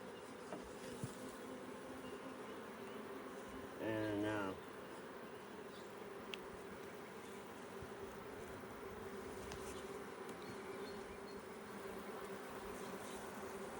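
Honey bees buzz steadily around a hive box while a nucleus colony is made up for bought queens, a faint continuous drone throughout with a brief voice breaking in near the middle.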